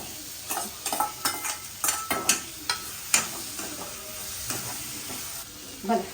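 Vegetables, cabbage and bottle gourd, frying in oil in a pan while being stirred, a soft sizzle broken by repeated scraping strokes of a spoon at an uneven rhythm, close and fairly quiet.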